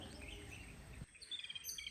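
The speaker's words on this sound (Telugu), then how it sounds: "ఇక పక్కన బర్డ్స్ అరుస్తుంటే ఎంత ప్లెజెంట్గా ఉందో" Small birds chirp and tweet in a garden on a fresh, lightly drizzly morning, with faint, high, scattered calls over soft background noise and clearer twittering in the second half.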